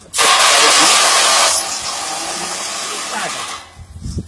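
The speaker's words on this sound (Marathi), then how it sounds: "हे यातनी मोटर फिट केली आहे मी. त्याला एक फॅन लावलेला आहे" A homemade jugaad fan driven by a small fitted motor gives a loud steady whirring hiss that drops to a lower, quieter drone partway through before fading into faint clattering near the end.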